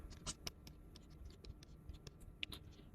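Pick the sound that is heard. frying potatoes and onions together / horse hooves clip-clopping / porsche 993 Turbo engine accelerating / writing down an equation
writing down an equation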